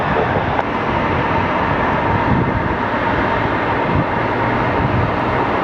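A Sun Country Boeing 737 airliner on three-mile final approach to runway 26 at Phoenix Sky Harbor Airport, a loud, steady broadband engine roar and rumble that holds evenly throughout with no talk.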